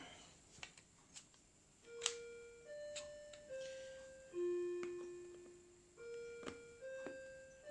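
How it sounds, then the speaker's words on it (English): A home clock chimes nearby in a slow sequence of clear, ringing tones, each one sustained and fading, over quiet room noise. "That's my clock chiming."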